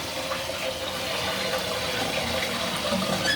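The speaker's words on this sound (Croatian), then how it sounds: "i sva voda ode u školj" A toilet cistern with a float-operated fill valve flushes, sending a steady, loud rush of water down into the bowl that carries on without a break and with no voices.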